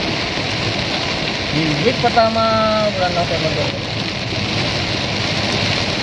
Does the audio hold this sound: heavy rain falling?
yes